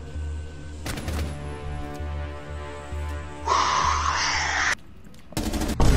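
Rainbow Six Siege gunfire crackles in sharp bursts, a few quick shots early, then a harsh sustained rattle in the middle, a brief silence, and more loud shots at the end, layered over a low humming game ambience.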